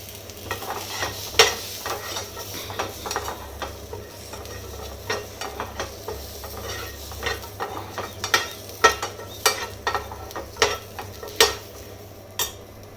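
Small shallots, about 100 grams, fry in a pan for a Tamil ennai kathirikkai kulambu, with a steady sizzle under sharp, irregular clinks and scrapes of a spoon stirring against the pan, close and fairly loud, with no talk.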